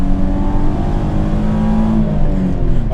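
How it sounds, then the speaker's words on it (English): A V6-swapped Acura Integra engine revs hard and steadily near the rev limiter, a loud, sustained engine drone that holds for a few seconds with no talk over it. "I'm even surprised at how quickly it revs up."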